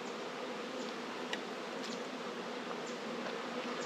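Bees buzz densely and steadily around an open beehive during a hive inspection. The drone is constant and close, and individual insects occasionally whine past nearby.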